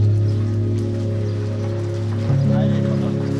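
Rain falls steadily on the Lofoten village of Å in Norway as an even, continuous hiss, with a steady low tonal hum beneath it.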